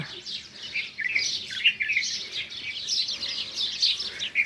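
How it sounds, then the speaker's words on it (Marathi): Busy, continuous twittering of sparrows at daybreak, many bright overlapping chirps close by, with no other calls standing out. "चिमण्यांच्या कलकलाडात भारद्वाजाच्या आवाजात सकाळ उजाडली आहे"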